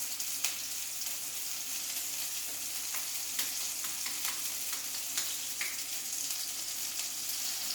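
Food fries in a very hot, smoking pan, giving a dense, continuous close sizzle with scattered crackles and pops throughout and no talk.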